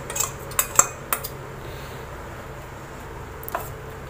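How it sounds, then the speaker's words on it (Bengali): Prawns are mixed with mustard, poppy seed and coconut paste in a metal tiffin box, with a handful of sharp spoon-on-metal clinks early and near the end over quiet room tone, no talking. "দিয়ে আগে খুব ভালো করে আমি এটা মেখে নেব।"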